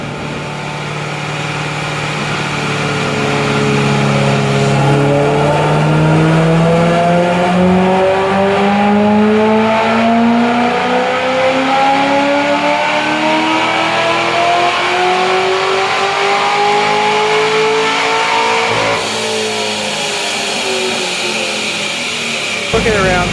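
A supercharged base model C6 Corvette revs on a dyno, its loud engine note climbing steadily in pitch for nearly twenty seconds before dropping off sharply near the end.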